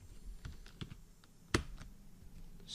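Fingers type on a computer keyboard, a quiet, sparse run of light key clicks with one sharper tap partway through, close by and without talk.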